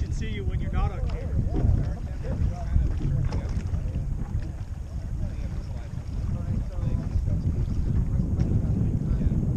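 Crew rowing the boat Mystique, with steady low water and hull rumble plus wind buffeting the microphone throughout, and voices talking over it.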